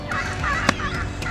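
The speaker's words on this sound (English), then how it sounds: "wait until I get the turkeys in focus" Wild turkeys call outdoors in a short burst of nasal, honking yelps, repeated several times at moderate distance.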